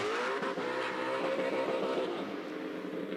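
A Formula Drift car roars through its exhaust during an Atlanta event, a sustained loud engine tone that wavers in pitch as it revs, with no speech.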